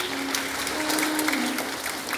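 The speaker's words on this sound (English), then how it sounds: "Give them a big round of applause." Crowd of students and staff at a school assembly claps after a grade 7 presentation, a brief, steady patter of applause with a faint voice or hum beneath.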